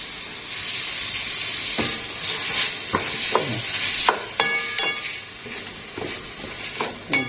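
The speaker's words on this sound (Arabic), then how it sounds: "نديها تشويحه حلوه كده" Onions, peppers and tomatoes sizzle steadily in a hot pan, with scattered clinks and scrapes of a utensil stirring against the metal over the continuous frying hiss.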